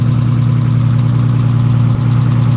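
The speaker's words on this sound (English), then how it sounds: "But it sounds good. I forgot how good this car sounds." A race car with an LS engine idles up close, a loud, steady, lumpy low rumble with a constant throb and a tiny hiccup near the end, no voices.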